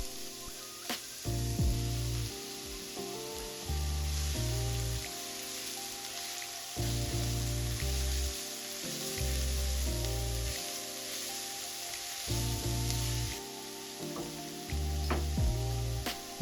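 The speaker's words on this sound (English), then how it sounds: "we're going to begin cooking our veggies by getting some olive oil into a medium heat pan and then letting them soften up a bit" Shallots and garlic sizzle in olive oil in a pan over medium heat, a steady crackling fry broken by repeated low thuds and scraping as the vegetables are stirred.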